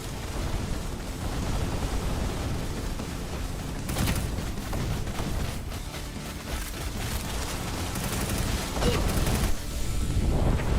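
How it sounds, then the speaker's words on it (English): Dense, continuous barrage of booming explosions and gunfire-like blasts from video game mortar fire, loud and sustained throughout, with occasional sharper bursts and a brief voice underneath. "The mortars are perfect aim."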